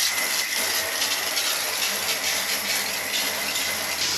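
Hot water runs steadily from an Eco Camel shower head in a motorhome shower, a continuous loud hissing spray with no pauses and no speech.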